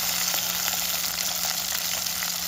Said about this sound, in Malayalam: ഈ പച്ചമുളകും കറിവേപ്പിലയും ഒന്ന് ഫ്രൈ ചെയ്ത ശേഷം മാത്രം ഇതിലേക്ക് നമുക്ക് അരിഞ്ഞു വെച്ചിരിക്കുന്ന 2 തക്കാളിക്ക ചേർത്ത് കൊടുക്കാം